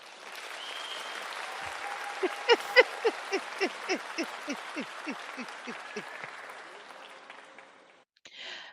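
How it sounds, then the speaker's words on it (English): A crowd applauds in a steady wash of clapping, with a rhythmic quacking-like call repeating over it before the noise fades out. "Will from The Rent is Too Damn High a very enthusiastic round of applause."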